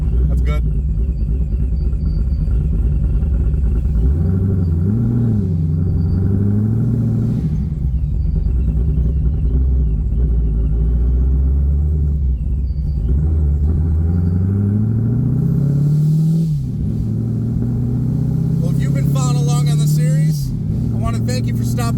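A Chevrolet Corvette C7 with a new radiator rumbles loudly while being driven, its deep engine note rising and falling through several gear changes, close and continuous.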